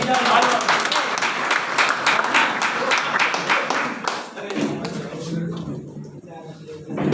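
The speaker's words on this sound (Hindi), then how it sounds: "तालियां बजाओ सर के लिए, तालियां बजाओ" An audience at a network marketing success seminar bursts into loud, dense clapping that fades after a few seconds, with talking heard over the applause.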